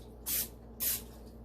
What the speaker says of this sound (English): But first, let's add our spray.